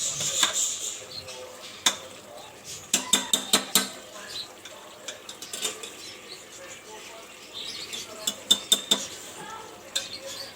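Garam masala roasting in a pot while a metal spoon stirs it, producing repeated sharp scraping clinks in quick bursts, close and distinct over a soft background hiss.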